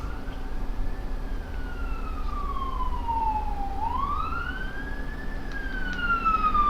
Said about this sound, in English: there's so many sirens and shit around in my neighborhood anymore